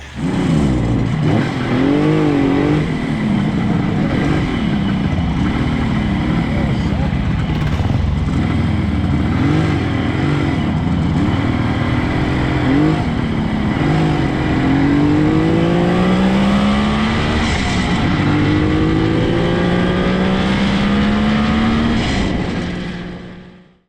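Kawasaki triple and Velocette motorcycles ride on a country road after a bike show. Their engines drone loudly and continuously up close, with the pitch wavering and climbing as the riders shift and accelerate.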